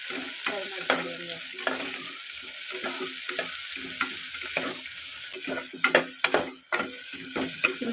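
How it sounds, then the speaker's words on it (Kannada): Onions frying in a pan with a spoon or spatula stirring them, a steady sizzle broken by repeated scraping clicks that grow sharper near the end, close and alone with no talk. "ಈರುಳ್ಳಿ ಕೆಂಪಾಗೋವರೆಗೂ ಸ್ವಲ್ಪ ಫ್ರೈ ಮಾಡ್ತೀನಿ."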